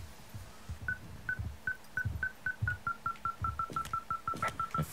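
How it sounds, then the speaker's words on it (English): A device in the video game Firewatch beeps loudly and steadily, its short tones speeding up over several seconds, accompanied by crunching footsteps and soft rustling. "this thing is losing its mind, beeping like crazy"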